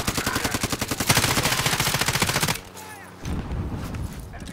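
Rapid automatic gunfire in a video game, a loud, close, steady stream of shots for a couple of seconds, then a brief lull and a few more scattered sounds.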